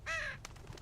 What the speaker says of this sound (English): Can I pet the bird?